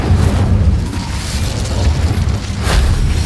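Incendio fire spell cast in a Harry Potter video game, heard as a deep, rumbling whoosh of flame with low booming bursts that rise again near the end.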